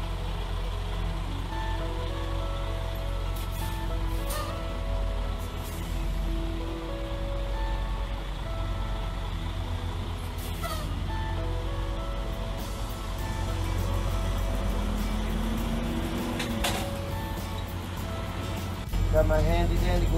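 A semi-truck reverses slowly under a trailer to couple its fifth wheel with the kingpin, giving a steady, close diesel engine rumble that continues for the whole stretch.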